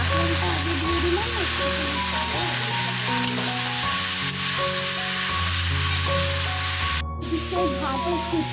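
Pointed gourd fries in a hot pan with loud, continuous sizzling and spitting oil close by, layered with tonal hum and clatter, while heavy rain is pouring outside.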